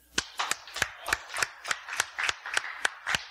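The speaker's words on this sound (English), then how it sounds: "Give the Lord a hand clap." A church congregation claps in unison during a sermon: about a dozen sharp, evenly spaced hand claps at a steady quick beat, fairly close and bright, with no talking.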